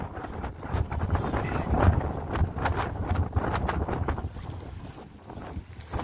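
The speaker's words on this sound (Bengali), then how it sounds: "দেখো কি জোরে ঝড় উঠেছে" Strong storm wind gusts roar and buffet across the Hooghly river beside a fishing boat, with loud rushing bursts and water slapping, close and uneven with no talking.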